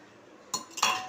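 A spoon stirs sathumaavu kanji, a health-mix porridge, with milk in a pot. After a quiet start, two brief metallic scraping clinks sound close by.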